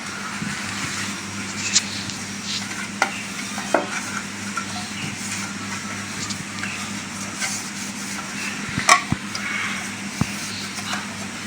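Vanilla cake batter is stirred briskly in a bowl in a village kitchen, a close, continuous rubbing swish with occasional sharp clacks of the utensil against the side, over a low steady hum.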